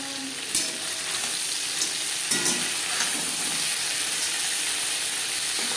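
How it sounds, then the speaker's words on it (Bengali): Continuous hissing sizzle of prawns frying in hot oil, close up, with a few brief clinks and taps along the way. "চিংড়ি মাছ এখানে আমি হালকা করে ভেজে নেবো"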